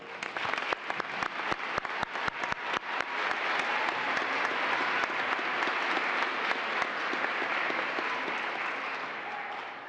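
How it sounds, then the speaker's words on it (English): A commencement audience in a large hall breaks into applause, beginning with a few scattered, distinct claps that swell within seconds into dense, sustained clapping, then fade slightly. "Please join me in offering their heartfelt round of applause for their unwavering support as well"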